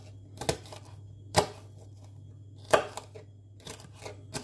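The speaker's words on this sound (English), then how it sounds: "Right, I already chopping everything." Vegetables being chopped for a bendi (okra) dish: chilies, garlic and onion cut on a board, with four sharp, well-spaced knife strikes over a low steady hum and no talk.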